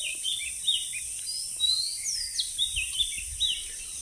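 A dawn chorus of small birds, with bright chirps and quick rising and falling whistles scattered over a few seconds in a calm, traffic-free outdoor setting, heard from a short distance with no talking.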